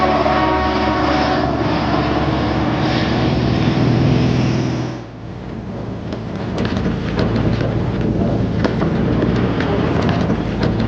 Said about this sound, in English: the Allied Bristol fighter aircraft flying overhead